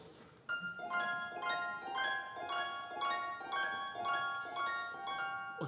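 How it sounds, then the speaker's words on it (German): A Munich Philharmonic harp plays the icing passage of a children's Sorcerer's Apprentice performance, a string of about six bright plucked notes at a steady pulse, each ringing and decaying, fairly quiet and with no voices. "Und jetzt haben wir die Harfe, die geht ganz schnell nach oben."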